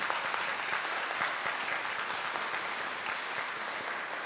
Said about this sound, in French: Je vous demande de les applaudir et de les accueillir.